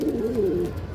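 A male pigeon with a puffed-up cere, turning in circles as it calls, gives one loud, close, rolling coo lasting about a second.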